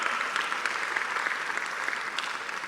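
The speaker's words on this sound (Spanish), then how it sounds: "Dale un fuerte aplauso al Señor." Church congregation applauding during a worship service, a steady, even wash of many hands clapping, moderately distant and continuous throughout with no speech over it.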